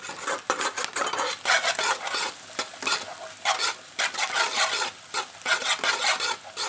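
Onions and carrots frying over high flame in a pan for egg fried rice, with rhythmic metal scraping and stirring strokes against the pan over a soft sizzle, no talking.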